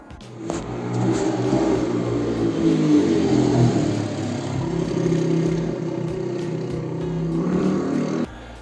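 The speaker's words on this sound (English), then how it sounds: "This is the sound of a motorbike." A motorbike engine idles and revs unevenly, rising and falling in a rough, rattling drone close by, then cuts off abruptly near the end.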